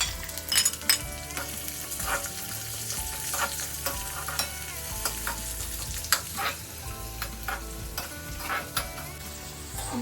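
Garlic, green chili and onion fry in a pan, a steady close sizzle with repeated scraping stirs throughout and no talk.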